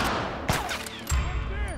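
Gunfire in The Last of Us Part 2: two sharp shots crack about half a second apart over a busy game soundscape.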